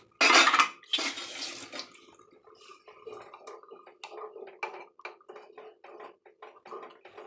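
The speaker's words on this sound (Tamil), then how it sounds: "நம்ம இப்போ மசாலா நல்லா ஈவனாக கலக்கி விட்டுக்குவோம்" Masala is stirred with water in a clay pot for Tamil-style fish kulambu, a spoon scraping and sloshing through the liquid in irregular close strokes after an initial louder pour.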